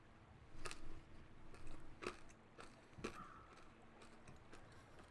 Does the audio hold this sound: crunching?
yes